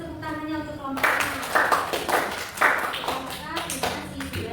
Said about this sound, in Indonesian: kasih tepuk tangannya untuk kelompok A.